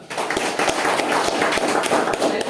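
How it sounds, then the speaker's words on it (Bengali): An audience at a product marketing training session claps together, a dense, loud patter of many hands running steadily for a couple of seconds without pause. "খুশি হলে তো হাততালি দেওয়ার কথা।"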